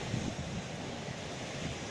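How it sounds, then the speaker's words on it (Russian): Calm sea washing gently onto a rocky former seabed shore near Sevastopol, a soft continuous low wash with some wind, faint and without speech. "Сегодня море более-менее спокойное."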